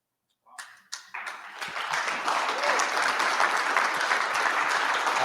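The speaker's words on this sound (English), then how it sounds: "You just got a stadium whistle." Conference audience applause swells quickly after a few scattered claps into steady, dense clapping that fills the room and continues to the end; no distinct stadium whistle stands out clearly in the crowd noise.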